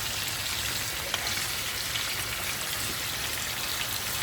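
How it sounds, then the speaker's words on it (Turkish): A steady, dense crackling sizzle of sucuk, Turkish sausage, frying in a hot pan for breakfast, close and even throughout with no talking. "Bugün böyle güzel sucuk kızartıyoruz kahvaltıda."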